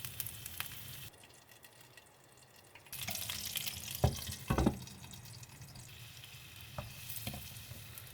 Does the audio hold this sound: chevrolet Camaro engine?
no